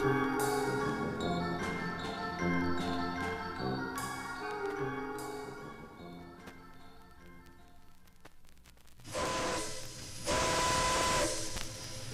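A steam train whistle sounds in several sustained blasts, followed by a loud rush of hissing steam that surges twice before easing.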